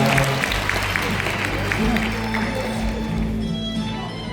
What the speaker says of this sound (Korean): 여러분 부회장님께 다시 한번 박수 부탁드리겠습니다.